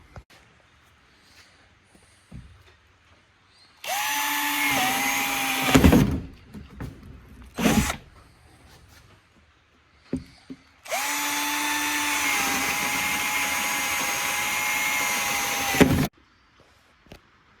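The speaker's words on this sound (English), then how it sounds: "I just got to drill some drainage holes in the bottom" A power drill bores drainage holes through the bottom of a plant pot, two sustained loud whirring bursts with a short burst between, then silence.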